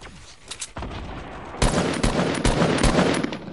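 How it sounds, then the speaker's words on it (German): Bursts of Fortnite gunfire, a few scattered shots at first, then rapid repeated volleys, loud and close with no talking. "Hier ein paar Schüsse hab ich gegeben."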